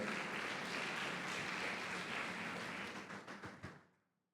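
A church congregation claps in praise, a broad and sustained wash of applause that thins into a few scattered claps and fades away near the end.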